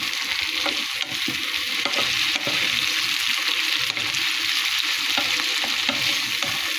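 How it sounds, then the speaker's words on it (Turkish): Peppers, tomatoes and garlic sautéing in a pan give a loud, continuous close-up sizzle and hiss, with occasional stirring scrapes and no speech. "Biberim o kavruldu domatesle sarımsağımı ilave yapıyorum. Biraz da böyle kavuruyorum."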